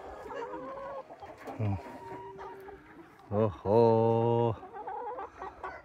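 Chickens on a farm where about a thousand slow, heavy naturally raised birds are kept, heard as clucks and a harmonic squawking call up close, with someone speaking briefly over them.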